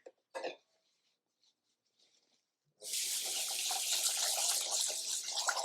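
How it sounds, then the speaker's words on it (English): Cold tap water runs steadily into a pan of potatoes in a home kitchen, a continuous close splashing flow that starts after a brief cough and a few small clinks. "I'm going to fill them up to the top with cold water"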